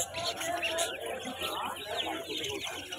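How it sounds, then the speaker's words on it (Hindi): Pet budgerigars chirping and tweeting in quick, bright bursts close by, mixed with some clucking-like calls, while someone talks over them. "गाइस हमारा देखो बजरी तोते कैसे हैं आप बताओ।"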